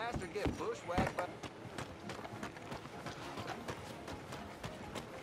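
Rhythmic clip-clop of horse hooves trotting in Red Dead Redemption 2, steady and mid-distance, with someone talking over the footfalls.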